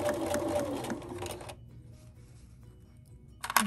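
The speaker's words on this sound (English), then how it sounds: "So I'm sewing as straight as I can, adjusting a little bit to make sure that I get all of that purple fabric." A sewing machine stitches purple fabric on the body of a zipper pouch, a steady close mechanical whir that stops abruptly partway through, leaving quiet until a brief clatter at the end.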